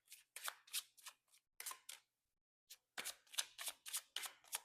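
An oracle card deck of medium-thickness cards is shuffled by hand in a run of crisp riffling bursts, a brief pause, then a faster string of close, papery flutters, with no talk.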